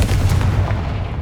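A Confringo fire spell goes off in the video game Hogwarts Legacy as a loud, continuous booming roar of blast and rumble that fills the whole short moment.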